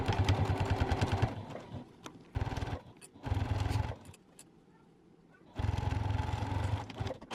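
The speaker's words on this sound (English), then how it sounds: "We're going to take this to our sewing machine and just sew right down this edge using a 1/4 inch seam." A sewing machine stitches a 1/4 inch seam on a fabric scissor case, running in close, steady bursts with short pauses between runs of stitching.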